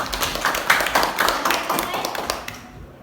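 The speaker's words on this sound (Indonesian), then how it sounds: "Kasih tepuk tangan dulu untuk Tasya." A classroom of economics students claps for a classmate's presentation, a short, uneven round of nearby hand claps that fades out after a few seconds, with a voice in the background.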